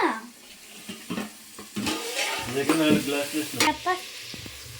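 Vegetables cooking in a pan, stirred with a spoon: loud, close scraping and clattering strokes over a steady sizzle, with a brief wet, splashy texture and no talking.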